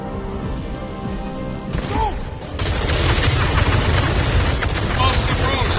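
Gunfire erupts in the video game Arkham Shadow, a dense rattling fusillade of rapid shots that kicks in partway through and grows louder, with a brief burst of voice and game sounds mixed in.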